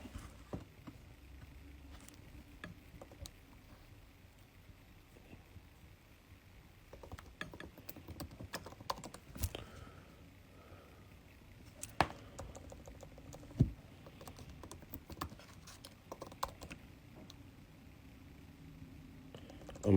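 Someone types a password on a computer keyboard in scattered, soft key taps, with a few louder clicks and a quiet room behind.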